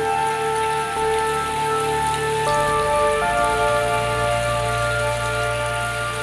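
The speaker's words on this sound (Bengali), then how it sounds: "দেখেন ওই যে অনেক বৃষ্টি" Steady, dense heavy rainfall over flooded paddy fields in Dinajpur, Bangladesh fills the whole clip, a constant wash of noise with some tonal hum underneath, no voices.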